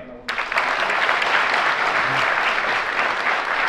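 Audience clapping bursts in loudly at a Quebec gathering of action-takers and holds as a dense, steady wash of applause from a large crowd until the end.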